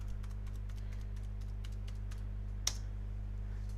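Light key taps on a computer keyboard as a Windows 7 password is typed, a quick run of soft clicks with one sharper click near the end, over a steady low hum.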